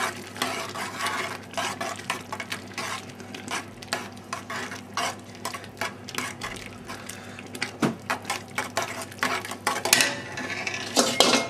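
Spoon stirring tomato pasta sauce in a pot, a continuous scraping, clinking swirl with a soft sizzle beneath, close and moderately loud, with no speech.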